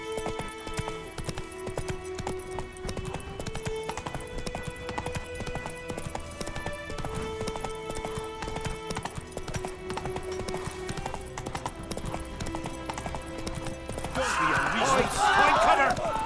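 Horse hooves clip-clopping in a steady galloping rhythm in The Witcher 3, running under game music and voices, with a louder burst of clatter near the end.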